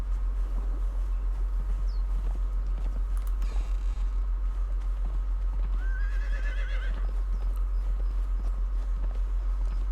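A horse in the game Conan Exiles, steady clip-clopping hooves over a constant low hum, with a neigh rising partway through, close and clear with no talking.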